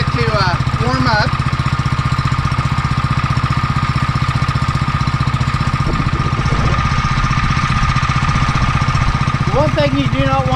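A Simpson 3000 psi gas power washer engine idles and warms up at half choke, a loud steady low chugging throb close by, with a voice speaking briefly over it near the start and end.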